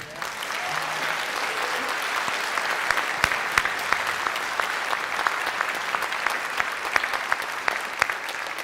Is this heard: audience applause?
yes